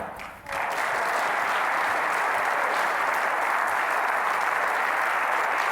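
A snooker crowd applauding a century break by Murphy, starting with a brief quiet moment before the clapping swells into loud, sustained, even applause that carries on to the end.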